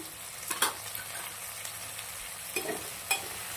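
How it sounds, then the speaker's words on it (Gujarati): Okra sizzles softly in oil with turmeric and salt, a steady low fry with a few sharp scraping stirs of a spatula against the pan, close and alone without voices. "હવે ભીંડાને સરસ મજાના ચડી જવા દેશું હળદર અને મીઠાના અંદર"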